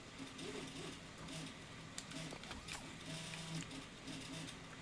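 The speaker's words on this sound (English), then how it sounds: "I timed my 3D print wrong, so that's why you hear my printer whirring in the background" A 3D printer whirs in a room, its stepper motors giving a steady tonal hum with shifting melodic pitches and occasional small clicks, running continuously at low level in the background.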